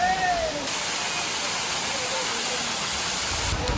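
Steady broadband rush of water pouring down Thirparappu waterfall, a continuous close roar that holds the same level throughout with no pauses.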